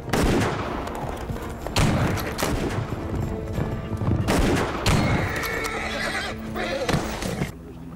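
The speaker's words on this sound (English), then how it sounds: "Lee will have to ride at a gallop while shooting with a rifle at his pursuers." Rifle shots fired by a stunt rider at a gallop for a film scene, several loud cracks spaced through a busy mix with horse whinnies and hoofbeats.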